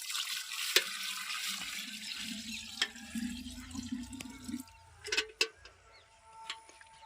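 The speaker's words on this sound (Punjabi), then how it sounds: "ਹੁਣ ਪਾਇਆ ਜਾਊਗਾ ਪਾਣੀ ਸਾਫ਼ ਘੜਿਆਂ ਦੇ ਵਿੱਚ" Water poured into clean clay pots outdoors beside a young mango plant, a continuous trickling pour for several seconds that then stops, followed by a few faint knocks.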